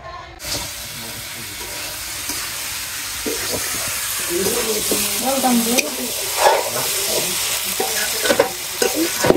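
Meat fries and sizzles in a pan, stirred with scraping and clattering that grows busier toward the end, with voices faintly in the background.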